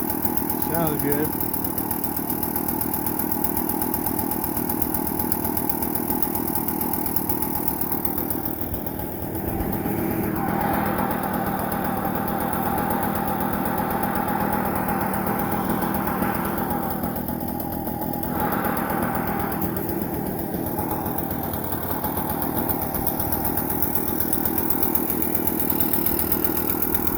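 An Echo PB-500T backpack leaf blower engine runs close by with a steady, buzzing drone throughout, briefly easing before resuming, while a person talks over it.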